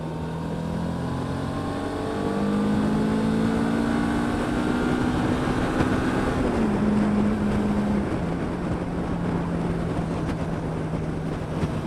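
Suzuki V-Strom 650 motorcycle accelerating hard on a country back road, its engine note climbing steadily through the revs with a brief drop at a gear change, loud and continuous with wind noise.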